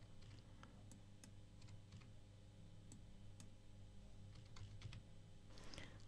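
Quiet keyboard typing while colour values are entered into input boxes in Serif DrawPlus X3, with scattered soft key clicks in short irregular bursts over a steady low hum.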